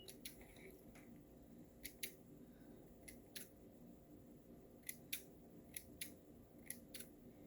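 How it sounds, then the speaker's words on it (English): Scissors snip loose thread from a handmade nautical boat craft, a series of sharp, quiet clicks spaced irregularly over a low background hush. "you can take your scissors. You can do it now, or you can wait till you finish wrapping it and just cut all your loose thread off"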